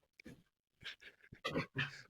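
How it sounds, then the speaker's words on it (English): A dog panting and huffing nearby in short breathy bursts with brief gaps, faint and close, with soft whimper-like breaths rather than full barks. "I don't know why he's barking."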